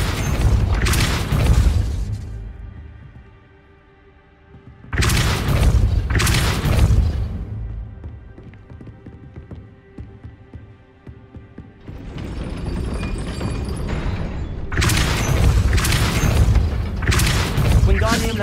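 Repeated Depulso force-push spell impacts in the Hogwarts Legacy video game, each a loud booming burst with rumbling thuds, arriving in separate bursts with quieter mechanical game sound between them.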